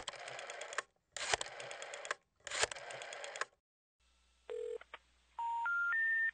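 A telephone number is dialed, first in three bursts of rapid touch-tone beeps, then a run of single tones rising in pitch over a low hum, quiet and close.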